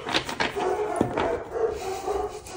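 Pet dogs bark and whimper indoors, a steady run of yips and whines filling the short stretch close by, with no one talking.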